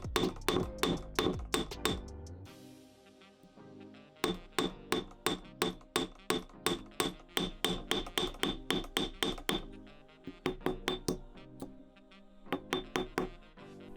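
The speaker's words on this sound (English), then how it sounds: "take an anvil and a hammer and start flattening the rivet stem" Rapid metallic hammer strikes ring out on an anvil in steady bursts as a rivet stem is flattened, with brief pauses between runs of blows; close and clear.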